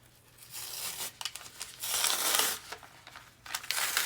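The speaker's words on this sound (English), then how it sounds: "now I should be able to pull this muslin off the freezer paper" Printed muslin is peeled away from a freezer paper backing in several crisp, crackling bursts of papery tearing and crinkling, close and fairly loud with short pauses between pulls.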